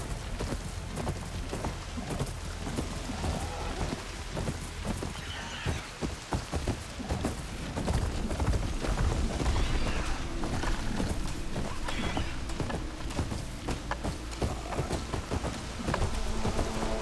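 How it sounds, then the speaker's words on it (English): Heavy rain pours steadily in the video game Horizon Forbidden West, a loud, dense hiss filling the scene without pause, with some faint game sounds mixed beneath it. "Can't hear much over the rain."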